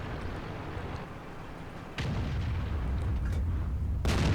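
Heavy booming cannon blasts from a tank battle game aimed at a Panzer, two sharp onsets standing out over a continuous loud rumbling din, with no talk.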